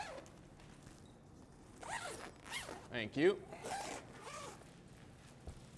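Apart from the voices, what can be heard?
zipping a diffusion panel bag closed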